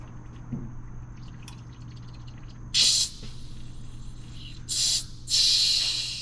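Hissing from a stuck-open valve on a 1926 Seagrave ladder truck engine, three loud bursts of rushing air, each lasting under a second, over a low steady hum and faint clicks.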